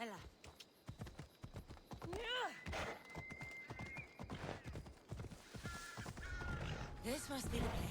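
Horse hooves clip-clopping in Assassin's Creed Odyssey, a steady trotting patter with a horse whinnying, crows cawing nearby and game music, while a player talks over it.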